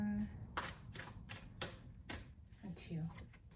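Tarot cards are shuffled and tapped in a quiet room, giving about eight crisp riffling bursts at an uneven pace, each followed by a brief pause.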